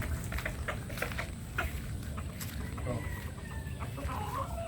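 Hens clucking nearby in a backyard setting, repeated soft clucks over steady outdoor background noise, with some faint talk mixed in.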